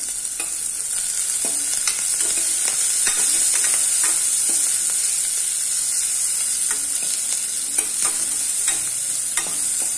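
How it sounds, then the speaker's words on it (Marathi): Chopped onion and garlic sauté in a hot pan for methi dal, giving a steady, even sizzle broken by light scraping clicks as the spoon stirs, heard close and alone. "कांदा चिरलेला आहे आणि लसूण। हे सगळं थोडं परतून घ्यायचं।"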